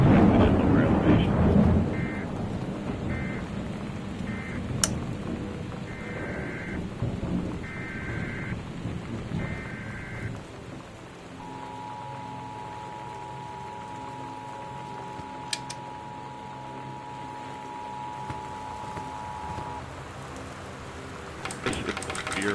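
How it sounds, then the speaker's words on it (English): Torrential rain and high winds lash down in a video game storm, a loud, constant roar with rumbles of thunder, while short electronic alert beeps and a long steady warning tone sound over it. "The Northwest Weather Service reports high winds and torrential rain conditions"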